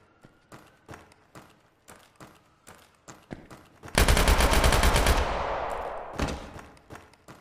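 Rapid bursts of gunfire in the VR shooter Tactical Assault VR: scattered single shots early on, then a loud sustained automatic volley that gradually tails off, followed by a few more isolated shots.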